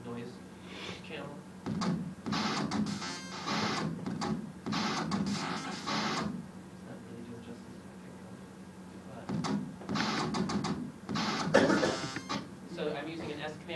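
Harsh noise bursts from an LSDJ chiptune noise channel with a random command, in choppy, irregular segments, the hiss changing texture from burst to burst, with quiet gaps between phrases.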